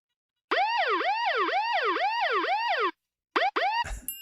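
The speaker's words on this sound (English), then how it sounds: "Coming in with some sirens" Loud emergency vehicle siren wailing in a rapid rising-and-falling cycle, cutting off abruptly, then returning in two short bursts followed by a brief burst of noise.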